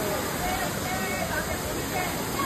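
Outdoor waterfall roaring as a loud, steady broadband rush throughout, heard close by with faint voices of a group of friends underneath.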